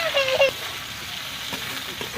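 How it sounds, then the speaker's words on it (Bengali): Chopped onion fries in a pan with whole cumin and a torn dried red chilli, giving a steady close sizzle with soft stirring scrapes, and a voice speaks briefly over it at the start. "পেঁয়াজটা ভালো করে ভেজে নেবো আমি"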